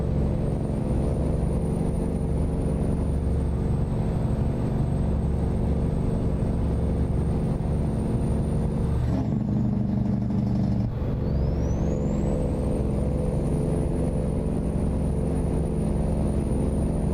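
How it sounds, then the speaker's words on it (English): A truck with an N14 engine cruises in American Truck Simulator, its engine giving a steady, close, continuous drone. Around the middle the tone briefly dips and shifts before settling back into the same even hum, with no voices. "any truck with an N14 in it is going to sound good"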